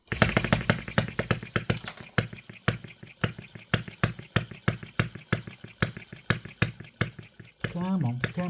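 A tiny OKMO 1110 model engine, a working replica of a 1950s Japanese design, runs in a rapid, sharp, evenly pulsing putter at close range, with a brief burst of speech near the end.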